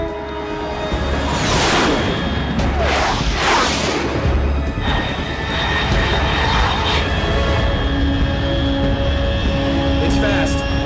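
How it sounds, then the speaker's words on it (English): A fast aircraft roars past overhead in Metal Gear Solid 3, a loud sustained jet rumble that swells and fades with bursts of whooshing noise, steady throughout. "Unidentified aircraft detected."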